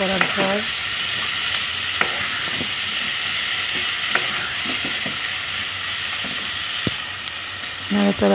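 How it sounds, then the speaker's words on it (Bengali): Spice masala frying in a pan while being stirred, a continuous close sizzle broken by repeated scraping and clicking strokes of the spoon against the pan, with a brief voice near the end. "তারপর আমি সম্পূর্ণ মশলাটা দিয়ে দিলাম, দেওয়ার পরে ভালো করে নাড়লাম।"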